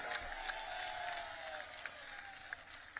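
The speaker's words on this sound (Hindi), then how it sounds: "एक बार हाथ उठाकर ताली बजा दीजिए" A rally crowd at Defence Minister Rajnath Singh's political event in Malhani, Uttar Pradesh, claps and cheers steadily in a continuous mass of hands, with a few sharper claps standing out.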